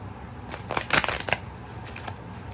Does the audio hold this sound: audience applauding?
no